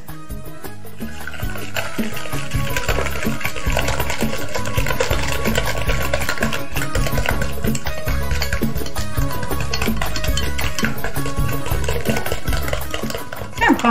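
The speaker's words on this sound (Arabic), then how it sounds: "كنبقاو نضربو بحال هكا حتى كيطلق الخليط مزيان" Rapid, steady rattling and scraping of a whisk beating thick cake batter with honey in a bowl, continuous and close, with a voice occasionally heard.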